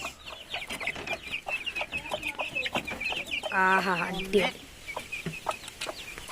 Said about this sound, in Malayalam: കോഴിക്കുട്ടികളൊക്കെ മാറി പോവല്ലേ